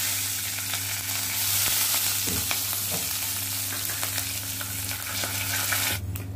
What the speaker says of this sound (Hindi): इसको तड़का लगाने के लिए इसमें डाल देंगे।